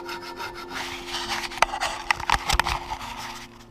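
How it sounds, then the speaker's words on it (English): Rough, raspy scraping strokes on wood, irregular and close, with a few sharper clicks and knocks partway through. "Just now sawing it off."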